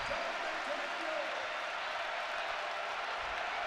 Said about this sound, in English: The crowd getting into it now.